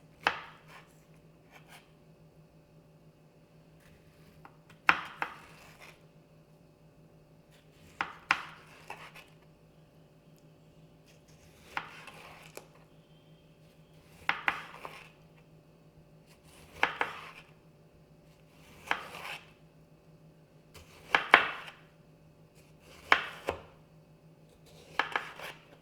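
A knife cuts a tomato into long, thin slices on a cutting board, producing about nine evenly spaced sharp taps with soft slicing swishes in between, close and clear over a quiet hum.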